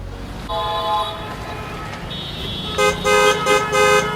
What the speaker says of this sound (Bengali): প্রয়োজন ছাড়া হর্ন বাজাবে না, এতে শব্দ দূষণ হয়।